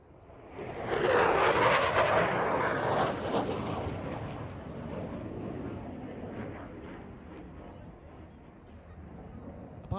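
A Boeing F/A-18 Hornet jet at an airshow powering up with throttles forward, a loud roaring rush that swells quickly and then fades into a long, steady distant rumble.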